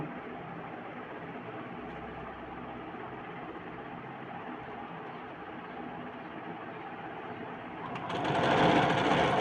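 A sewing machine stitching a blouse runs with a continuous fast rattling hum at moderate volume, then a brief louder burst of rustling near the end.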